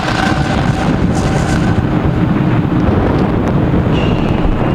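A SpaceX Falcon 9 rocket lifting off carrying Starlink satellites, a loud, continuous low rumbling roar with broad noisy crackle and wind buffeting throughout.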